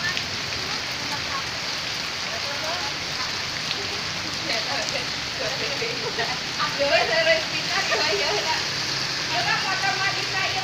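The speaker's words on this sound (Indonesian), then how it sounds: "akibat hujan angin yang cukup deras" Heavy rain driven by strong wind on a road in Ciamis, a constant loud hiss of downpour with gusty swells growing rougher toward the end.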